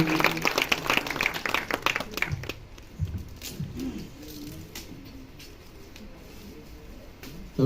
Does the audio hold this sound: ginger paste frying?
no